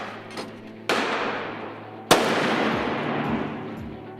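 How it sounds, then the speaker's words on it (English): A grenade packed with 105 .32-caliber rubber balls and fitted with a separating fuse goes off outdoors in a single sharp, loud blast, preceded by a smaller pop, with a long rumbling decay afterward. "We're testing steam ball grenades. It basically breaks up when it explodes."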